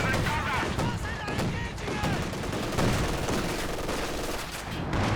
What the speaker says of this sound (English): Both of them going for the rocket artillery